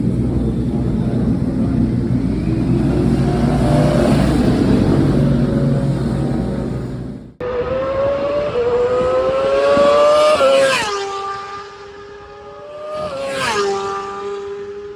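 Italian Superbike racing motorcycles at Misano World Circuit, loud high-revving engines roaring past, with sharp rising and falling pitch sweeps as bikes accelerate and pass close by, heard alone without talk.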